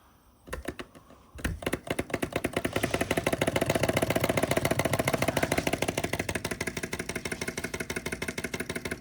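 A PM Research hot air Stirling engine turned down to its lowest flame setting runs alone with a steady rapid mechanical clatter that starts after a brief hesitation and settles into an even rhythm.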